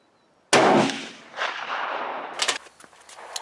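A single loud rifle shot fired with GP-11 ammunition at an outdoor range, a sharp close crack followed by a rolling echo and fainter clicks and rattles of handling.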